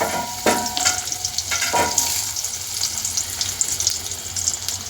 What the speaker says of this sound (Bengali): ওই তেলে এবার বেগুন দেবো ছেড়ে ছেড়ে করে কেটে রাখা বেগুন